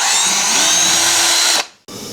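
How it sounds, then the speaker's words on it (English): A power drill with a small bit boring a hole during a car headlight projector install on an Acura Integra, a steady close high whine that cuts off abruptly, then briefly restarts. "start out with this small drill bit and then I'll step it up from there"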